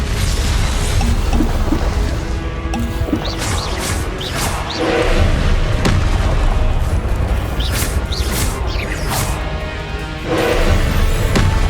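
Confringo fire spells blast repeatedly in the video game Hogwarts Legacy amid loud, dense battle noise, with booming impacts and crashing bursts over a constant rumbling roar.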